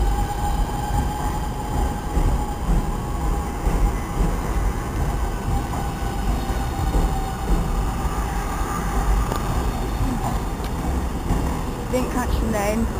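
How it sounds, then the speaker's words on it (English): An Alstom Pendolino train rolls past at a station, a continuous rumbling rush with faint rail clatter, fairly near and steady throughout, ending with some brief squeals. "Alstom Pendolino to London Euston."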